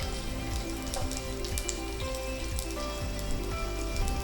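Garlic frying in oil in a pan until lightly browned, a steady close crackling sizzle with scattered pops running throughout, no voices.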